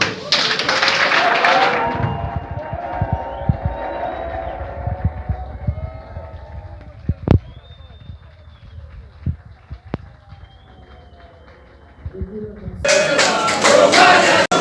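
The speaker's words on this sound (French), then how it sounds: "par vos vibrants applaudissements, nous puissions démontrer notre soutien à Fatou" An audience at a political gathering in Kinshasa claps loudly in a dense burst at the start, then falls quiet with scattered thumps, before a second strong round of applause swells near the end.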